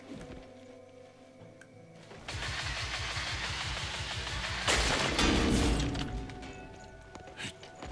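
Mining drill in the open-world game Crimson Desert, boring into iron ore: a steady mechanical grinding rumble kicks in after a quieter stretch, swells louder with a harsh crunching burst midway, then eases back to a lower drone.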